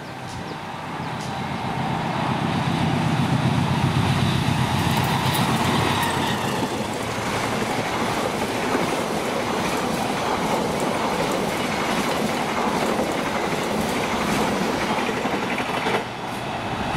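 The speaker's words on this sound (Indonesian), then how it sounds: "Barusan kereta api Saunggalih 153A." A passenger train rumbles past close by at Karawang station, Indonesia, for a long stretch, steady roar of wheels on rails with rhythmic clacking and occasional metallic squeals.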